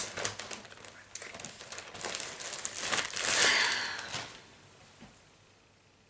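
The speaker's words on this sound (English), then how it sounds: "sorry for the plastic bag noise" A plastic bag crinkles and rustles up close with a few sharp crackles and a louder burst midway, then fades to near quiet, with no talk over it.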